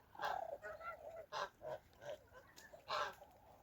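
Several geese honk in a poultry yard with Kholmogory and Tula fighting breeds, loud close calls in uneven bursts with short pauses between them, no voices over them.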